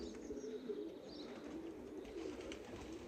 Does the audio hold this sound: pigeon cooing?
yes